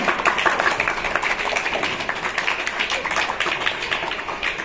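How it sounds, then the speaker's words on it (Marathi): A school crowd claps loudly and steadily for a teacher being honoured at a school election ceremony, dense continuous applause throughout with no pauses. "बाबुल सरांसाठी जोरदार टाळ्या वाजवायच्या."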